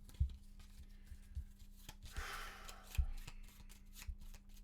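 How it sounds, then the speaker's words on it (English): Cards from the board game Maquis being shuffled by hand at a table: quiet, close riffling and soft card slaps with a few sharper taps, no voices. "We're going to shuffle this up."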